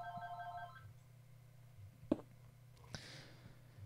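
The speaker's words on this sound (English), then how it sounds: "Don't mind the phone ringing in the background." A telephone rings in the background, a brief electronic trill at the start followed by a couple of faint clicks over a low steady hum, quiet and distant.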